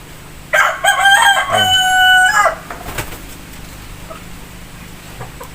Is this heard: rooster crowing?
yes